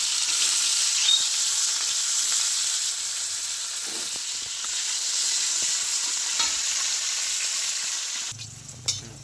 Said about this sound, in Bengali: এবার ওই তেলের মধ্যে আমি উচ্ছেগুলোকে ভালো করে ভেজে নেব।